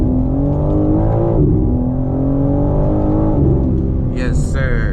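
BMW M4 Competition (2022, xDrive) engine pulling hard in fourth gear, a loud steady rising drone that climbs in pitch and dips briefly at shifts, with a short higher whine near the end; a voice talks over it.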